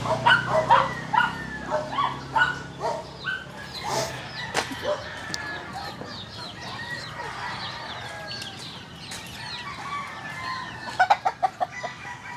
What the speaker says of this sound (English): But everybody's got 17 roosters